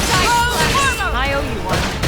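Rapid gunfire from a battle in the video game Xenoblade Chronicles X, loud and continuous bursts mixed with voices and tonal game sounds across the whole stretch.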